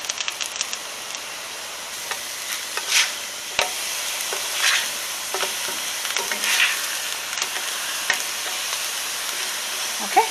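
A corn tortilla fries in a pan for venison street tacos, giving a faint, steady sizzle with light scrapes and a few soft taps.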